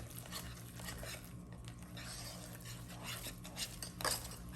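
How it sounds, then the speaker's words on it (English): Thick churro dough is stirred in a bowl, producing faint, continuous scraping and soft sticky stirring with occasional light knocks against the bowl, over a low background hum. "So keep stirring."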